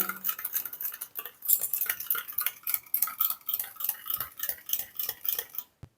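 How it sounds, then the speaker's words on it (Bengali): A spoon briskly beats about five spoonfuls of yogurt for doi ilish bhapa, hilsa fish steamed in a yogurt and mustard oil paste. Quick, rhythmic clinks and scrapes against the bowl continue steadily, close and clear, with no voices. "পাঁচ চামচ মতো দই তো আমি আরেকটু ফাটিয়ে নেব"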